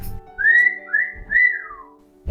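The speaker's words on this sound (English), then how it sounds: "I can whistle" A person whistles a short tune of three rising-and-falling notes, clear and close, with brief gaps between them and no talk.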